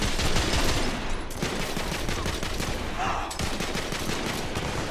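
Dense, continuous gunfire from a firefight in the video game The Order: 1886, rapid overlapping shots and bursts filling the whole stretch with steady loud intensity.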